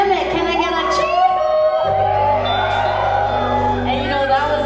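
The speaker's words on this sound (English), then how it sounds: "Can I get a cheer?" Concert crowd at an outdoor holiday show at International Market Place cheering, whooping and shouting loudly throughout, a dense roar of many voices with a steady low hum beneath.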